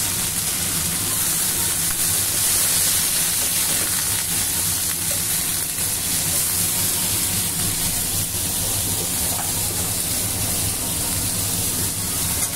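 Teasel gourd sizzling in a pan of oil for a fish curry, a steady loud frying hiss with faint stirring, with no talk over it.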